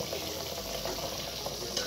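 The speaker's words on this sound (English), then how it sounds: "Some boiling" Water boiling in a cooking pot while dinner is made in an African village, a steady, close bubbling hiss that runs evenly throughout with no voices.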